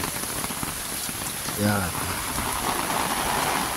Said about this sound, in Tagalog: Wow, look at the rain.